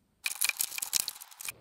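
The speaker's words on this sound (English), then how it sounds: "So let's open the box." A cardboard box holding wooden flutes is torn open, a brief close burst of crackling, scraping and ripping lasting about a second and a half.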